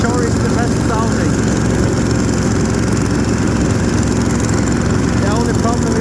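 A diesel-powered snowmobile engine runs close and loud with a steady, rough low drone that holds constant throughout.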